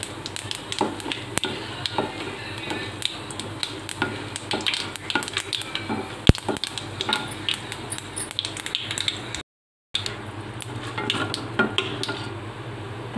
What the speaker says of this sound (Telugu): తాలింపు గింజలు వేగుతున్నాయి.